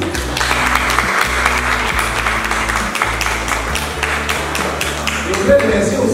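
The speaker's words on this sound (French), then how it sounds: "demande tout le monde d'applaudir les jeunes enfants qui sont ici" An audience applauds young children at an award gathering, steady dense clapping throughout, loud and close, with music or voices faintly underneath.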